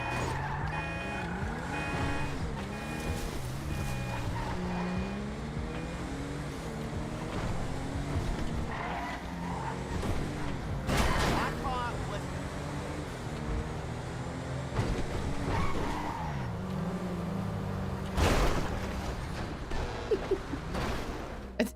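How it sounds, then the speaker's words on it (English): A truck engine in a video game, a continuous droning roar with shifting pitch like changing revs, steady throughout with a few sharper bursts and clanks. "did not mean to race the truck"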